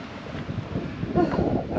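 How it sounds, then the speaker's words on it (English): Strong, bitterly cold wind gusts over a moving narrowboat on a canal, buffeting the microphone with a constant low rumble that swells toward the end. "The wind has picked up and it's bitterly cold wind."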